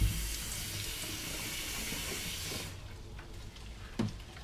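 Tap water runs steadily as soaked red clover seeds are rinsed for sprouting, a loud continuous splashing rush that cuts off partway, leaving quieter drips and a small knock.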